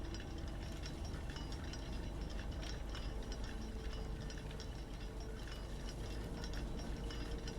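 Chains rattle in the video game Blue Prince: a steady, dense metallic clinking and ratcheting that runs unbroken throughout, with no voices.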